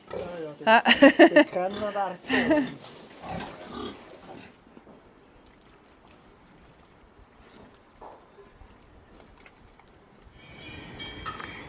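Pigs on a Swiss farm that are fed whey left over from cheese making grunt and squeal in loud close bursts early on, then quieter shuffling and faint sounds follow, with people speaking throughout.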